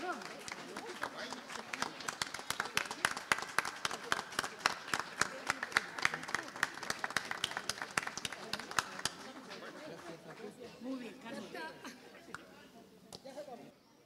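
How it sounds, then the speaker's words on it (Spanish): Audience applause for a choir at the opening ceremony of a 2024 book fair, a dense, steady burst of many hands clapping from a large crowd that thins out after about nine seconds into softer murmuring and scattered voices. "un aplauso otra vez, son maravillosos"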